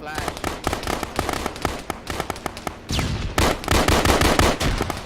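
Grenade blast in Arma 3 military simulation gameplay: a sharp broadband boom lands amid rapid crackling gunfire, with radio-style voices talking over the combat.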